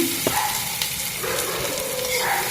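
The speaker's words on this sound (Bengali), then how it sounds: "পেঁয়াজ রসুন দিয়ে একটু নাড়াচাড়া করতে হবে।" Onion and garlic fry in a pan for khichuri while being stirred, a steady close hiss of sizzling oil with a couple of light scraping knocks of the spoon, and a voice talks briefly in the background.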